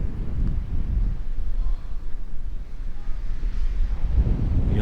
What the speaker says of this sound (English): Waves are pretty good.